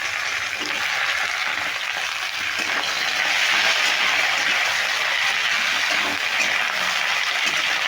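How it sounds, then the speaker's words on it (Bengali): Potato and radish pieces fry in a hot pan for a winter vegetable and spinach dish, giving a loud, steady sizzle that runs continuously with no talking. "এই কেটে রাখা সবজিগুলো একে একে দিয়ে দিচ্ছি প্রথমে আমি আলু দিয়ে দিলাম মূলোগুলো দিয়ে দিচ্ছি"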